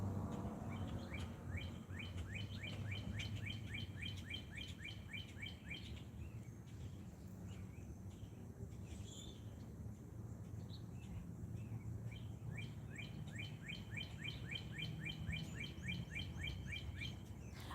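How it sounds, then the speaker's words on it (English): Birds chirp outdoors at the Hollywood Walk of Fame in quick repeated trills, with clear bursts at the start and end over a low background rumble of city noise and no talking. "But just listen to these birds."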